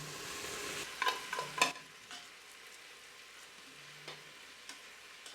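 Potatoes tipped into a pressure cooker pot with spices and stirred, a few clattering scrapes and knocks early on over a low background sizzle, then quieter occasional stirs.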